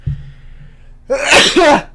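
A single loud sneeze from one person, a brief intake followed by a sharp explosive burst, close by in a quiet room.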